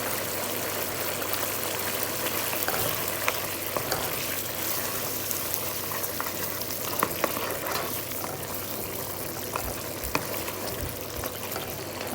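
Peshawari salted meat simmering with yogurt over high heat while the water cooks off, giving a continuous dense sizzle and bubbling hiss, steady and close, with no talking.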